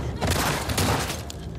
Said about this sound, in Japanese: あれ、銃声しなかったっけ。